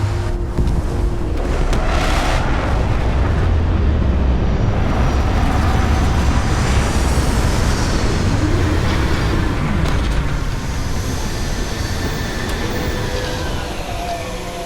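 Deep, steady roar of spaceship landing engines in the game Starfield, a loud continuous rumble that holds throughout with a faint rising whine layered on top, no speech.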